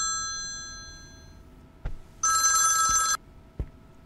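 Telephone ringing in a Turkish TV film: a short burst of bright electronic ring tones, loud and close, framed by brief clicks and a faint earlier tone in an otherwise quiet room.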